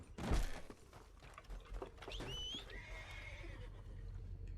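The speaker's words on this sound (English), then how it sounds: "This way, horsey." A horse neighs and whinnies loudly in Red Dead Redemption 2, its call rising and falling over a short stretch, with a brief thump near the start and steady game ambience underneath.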